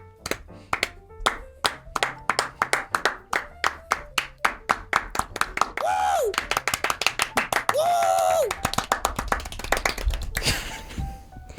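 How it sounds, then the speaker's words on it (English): Close hand clapping in a podcast studio, a long run of sharp claps, rapid at first and then steadier, broken by two short bursts of rustle and a sung or hummed tone. "Have you actually done a clap?"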